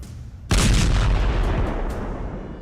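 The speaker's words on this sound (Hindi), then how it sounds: "इजराइल ने हिजबुल्लाह के 100 से ज्यादा ठिकानों पर मिसाइल दाग दी है" A missile strike lands with a single sudden heavy explosion, a deep booming blast that rumbles and slowly fades over a couple of seconds after a quieter lead-in.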